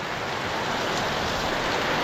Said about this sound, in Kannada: ಮಳೆನ ಚಾಲು ಆಯ್ತು